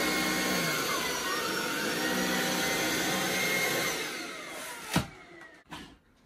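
A Miele Triflex HX1 Pro cordless vacuum cleaner runs with a steady, close, loud whine and airflow roar, then powers down and falls quiet, leaving a couple of faint knocks.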